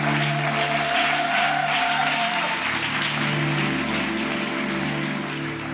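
A church congregation claps loudly to welcome a visiting preacher at a Sunday service, with sustained, dense applause over a steady low instrumental tone throughout.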